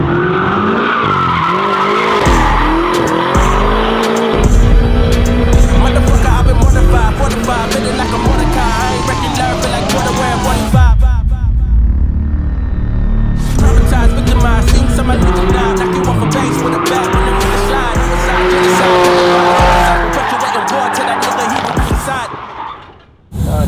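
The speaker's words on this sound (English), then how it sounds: "He's gonna drift his M6." A BMW M6 drifting at an abandoned military base, with loud, sustained tire squeal and rising and falling engine revs. The noise drops briefly midway, then resumes just as strongly.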